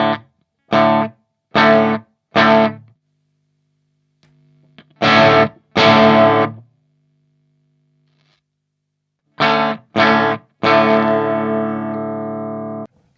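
Distorted electric guitar through a modified Mesa Boogie Rectifier tube amp, played as short chopped chords with gaps of silence, ending on a long ringing chord that slowly fades.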